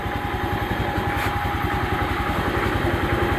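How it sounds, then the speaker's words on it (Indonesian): A Honda Vario 125 scooter idles steadily close by with a fast, even low putter and a constant whine, in a workshop during a battery charge. "mumpung motornya masih hidup"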